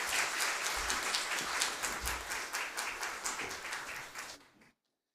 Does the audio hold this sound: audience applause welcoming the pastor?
yes